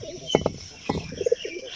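A pigeon in a cage gives a few soft, close coos and short throaty calls in quick succession, fairly quiet, with no talk.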